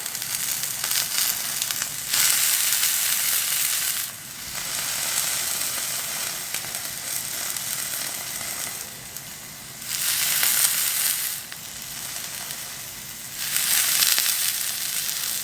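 Sea bass fillets sizzle loudly in a hot pan for an Indonesian-style curry dish, a continuous crackling hiss that swells and eases in surges as the fish is pressed down.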